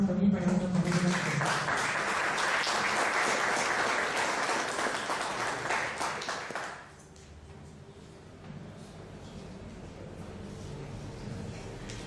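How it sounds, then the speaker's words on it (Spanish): Audience applause at a political conference session, a loud sustained round of clapping for about seven seconds that then drops off abruptly, leaving quieter room noise with scattered sounds. "les pido por favor un voto de aplauso también para nuestro compañero"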